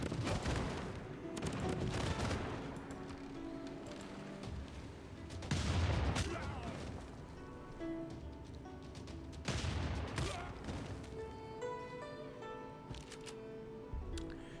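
Ships and units fire on Boston in a Civilization VI battle, a string of heavy booming volleys and cannon-like blasts in repeated bursts, some overlapping, with music-like tones ringing underneath.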